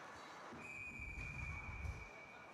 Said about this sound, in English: The clock ticked down just as the whistle went.